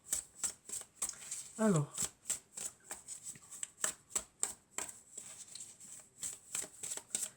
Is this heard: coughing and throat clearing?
no